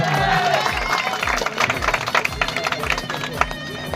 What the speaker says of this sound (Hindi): जोरदार ताली बजाओ भैया